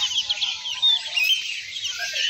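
Caged songbirds such as oriental white-eyes chirp continuously at a bird market stall, a dense high twittering chorus with faint low murmurs beneath.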